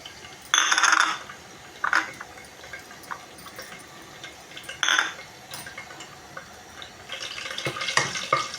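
Whole spices, green cardamom, cumin, star anise, cinnamon, black pepper and cloves, crackle in hot oil for a coconut chicken curry, in short sputtering bursts with a steadier sizzle and stirring clinks building near the end.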